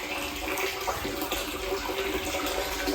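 Water flows steadily into a well water tank in a low-flow well fed by an added spring water line, a continuous splashing rush at an even level with no talking.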